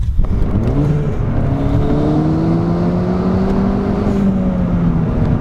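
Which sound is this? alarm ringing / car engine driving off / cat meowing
car engine driving off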